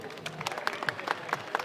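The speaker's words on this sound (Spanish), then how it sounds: "un aplauso por favor" Audience members at an outdoor dog event in Alcorcón, Madrid, give a short burst of scattered clapping, light and fairly close, with crowd murmur mixed in.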